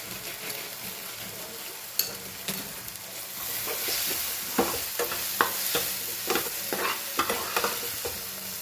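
Green garlic and chopped dried garlic fry in a pan with a steady close sizzle, broken by a few sharp scraping stirs and clinks from about the middle onward.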